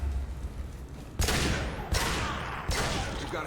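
Three heavy bursts of gunfire in the sci-fi shooter Mass Effect 2, each a sharp loud onset ringing into a sweeping decay over a low rumbling background.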